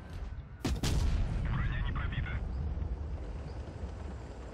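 A tank gun fires in Tanks Blitz, one sharp close blast that trails into a rumbling decay with a brief metallic reload whir, while someone talks faintly beneath.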